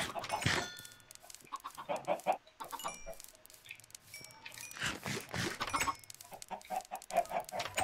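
Chickens cluck repeatedly in Minecraft, a series of short, close clucks and squawks in irregular bursts with game sounds in between.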